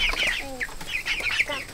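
Cornish cross chickens in an outdoor chicken tractor cluck and chirp in quick overlapping calls, close and moderately loud, with no voices.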